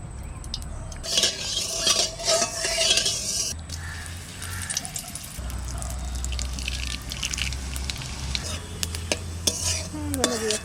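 Cumin seeds and bay leaves sizzling in hot oil in a pan, a loud continuous crackling fry close by, with scattered clinks of a utensil against the pan, no talk.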